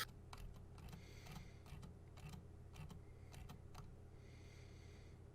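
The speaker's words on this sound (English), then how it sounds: "We can hear you typing." Quiet typing on a computer keyboard: irregular bursts of soft key clicks, some single taps and some quick runs, over a low background hum with no speech.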